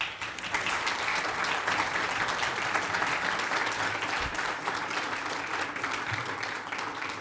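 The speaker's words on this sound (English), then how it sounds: "Let's give them a round of applause." An audience applauds at a lecture hall dedication, a dense, steady wash of clapping that holds at full strength for about seven seconds with no voices over it.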